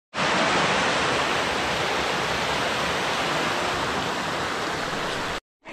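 River water rushes loudly and continuously in a dense, even roar from start to finish before cutting off abruptly near the end.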